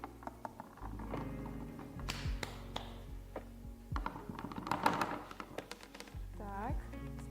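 Several sharp taps knocking on an object during a home physics experiment involving a thin layer of sawdust, irregularly spaced and fairly close, with a voice talking over them.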